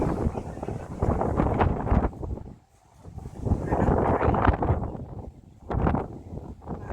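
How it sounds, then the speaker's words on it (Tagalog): Strong wind roars and buffets steadily against the microphone at The Peak in Hong Kong, with a brief lull midway before gusting back hard. "Lakas ng hangin."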